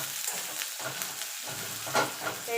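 Onion frying in a pan for Bengali-style radish greens, a close, continuous sizzle with soft stirring scrapes and a couple of utensil taps.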